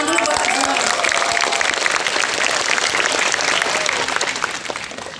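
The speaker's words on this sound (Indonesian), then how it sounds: "Tepuk tangan dulu buat semua" Loud, dense applause from a crowd at an outdoor election-preparation assembly in Cilincing, steady and close, tapering off slightly at the end.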